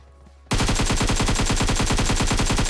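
Sustained automatic gunfire in the video game PUBG, a loud rapid burst of evenly spaced shots that starts abruptly after a brief quiet moment and continues without pause.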